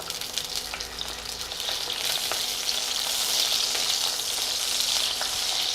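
Garlic, about half a cup, frying in hot oil over low-to-medium heat for an onion chutney, a steady broadband sizzle that grows fuller and louder after the first two seconds, with faint stirring and no talk.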